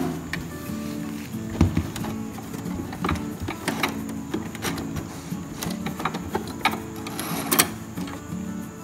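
A domestic sewing machine runs in short bursts, stitching a couple of stitches to lock a seam, with mechanical clatter and a steady electric hum in a home setting.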